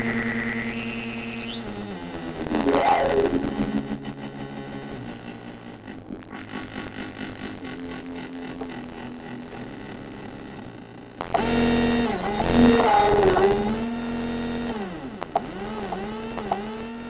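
A Korg MS-20 analog synthesizer patch with the keyboard routed into voltage-controlled oscillator 1 plays sweeping, buzzing tones with pitch glides, filter swells and echoing effects, running alone for about seventeen seconds.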